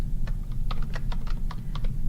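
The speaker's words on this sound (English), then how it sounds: "Then hit Tab on your keyboard." Keys clack on a computer keyboard in a steady series of light, separate taps, about a dozen in two seconds, over a constant low room hum with no talk.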